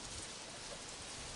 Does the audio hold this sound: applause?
no